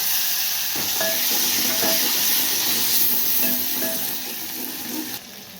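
Curry leaves and tomato drop into hot oil with split green chillies for a stuffed brinjal bhaji. A strong, steady sizzle follows, with soft scrapes of stirring and no voices, easing slightly toward the end.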